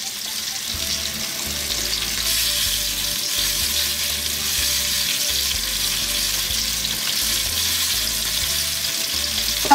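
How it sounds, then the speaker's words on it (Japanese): Vegetables stir-frying in a pan for a Chinese-style dish, with water and Weipa broth paste added, give a steady, loud sizzle and crackle with some stirring throughout, and no one speaking. "野菜が炒まってきたらお水で、ウェイパー入れてちょっと中華風にしていきましょうかね"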